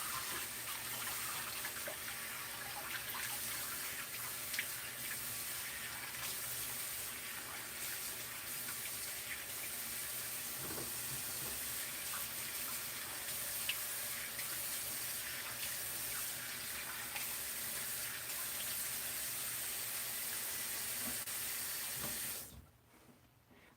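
Steady running water from a tap rinses something off in a sink, a continuous hiss and splash held at an even level for most of the clip before cutting off near the end.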